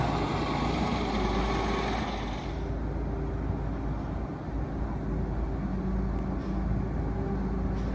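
A dump truck hauling a load of dirt drives along with a steady, loud low engine rumble and broad road noise that eases slightly partway through; no talk is heard.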